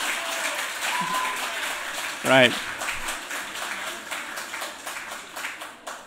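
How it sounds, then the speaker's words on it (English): An audience gathered for a storytelling session gives a sustained round of applause, the clapping continuous and fairly close, with a brief spoken word over it partway through. "Let's do a big round of applause to tell everyone that we're actually starting so that everyone can hear."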